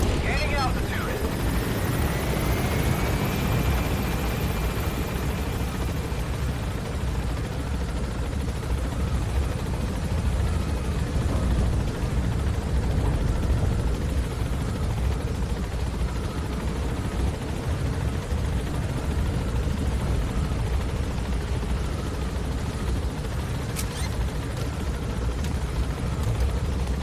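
Helicopter gaining altitude in Metal Gear Solid V, a constant heavy rotor and engine drone that stays loud and steady throughout, with faint voice chatter underneath.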